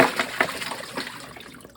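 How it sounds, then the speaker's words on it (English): Hard boiled eggs are strained in a kitchen, with water draining and a few light knocks of shells against the container, brief and quiet. "Let's strain those eggs."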